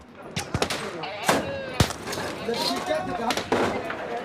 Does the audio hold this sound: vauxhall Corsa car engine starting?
no